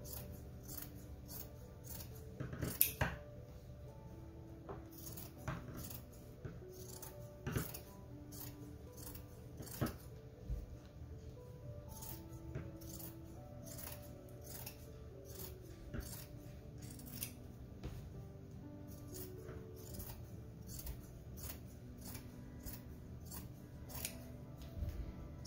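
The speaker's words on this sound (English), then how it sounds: "I'm gonna cut the entire towel into lines like this." Scissors cutting an old towel into strips, with steady repeated snips close by over a low background hum, fairly quiet and with no talking.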